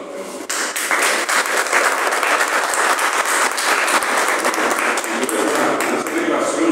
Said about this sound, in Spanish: Yo creo que el libro merece un aplauso en este momento.